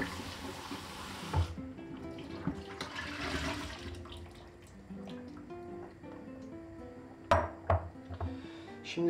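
Tap water runs steadily over sweet bell peppers being rinsed at a kitchen sink, with clinks of produce and dishes and a few louder splashes near the end.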